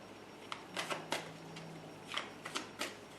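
Quiet, crisp bursts of tarot cards riffling and snapping together, several short shuffles separated by brief pauses, close by with no talking.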